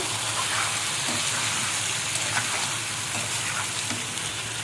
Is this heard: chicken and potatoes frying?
yes